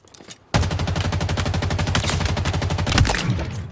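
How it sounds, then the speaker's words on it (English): An assault rifle in the video game Halo Infinite fires one continuous fully automatic burst of rapid, evenly spaced shots, loud and close, after a brief quiet moment. "I think this might be the most satisfying assault rifle I've ever used in a Halo game."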